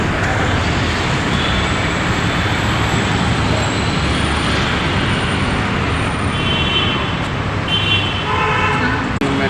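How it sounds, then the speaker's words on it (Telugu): Busy city road traffic in Hyderabad makes a dense, continuous roar of cars and buses, with scattered horn toots and a clearer honk near the end, alongside faint voices in the background. "హైదరాబాద్లో ట్రాఫిక్ చూడండి"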